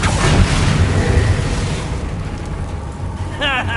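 A Bombarda spell blast in Hogwarts Legacy, a loud, dense, roaring burst of noise with a rumbling low end that fades after about two seconds, leaving softer debris and a brief whooshing effect near the end.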